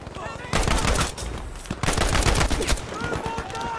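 Swedish AG-42 rifle firing rapidly in Battlefield V, loud sharp gunshots in quick bursts with echoing reports, a short pause then more fast shots, with brief speech between.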